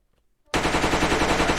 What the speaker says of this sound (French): J'aime ça, mes coups de feu à la fin.